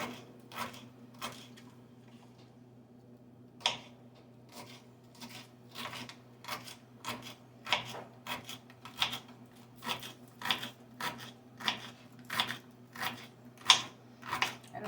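A knife chops celery finely on a board for meatloaf, a quiet series of crisp, irregular taps that speed into a quick steady rhythm, with a faint low hum beneath.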